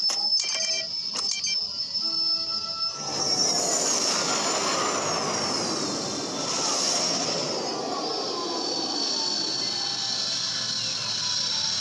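A spaceship on its landing cycle in a Star Wars fan film, a loud steady jet-like roar that swells in after a few seconds and holds, with a rising whine and a rumbling engine wash underneath.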